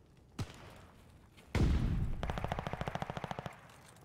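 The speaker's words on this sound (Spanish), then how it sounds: "Te siento tiros lejanos por doquier" Gunfire in the video game Call of Duty Vanguard: a lone sharp shot, then a heavy booming blast followed by a rapid, evenly spaced burst of automatic fire that cuts off abruptly.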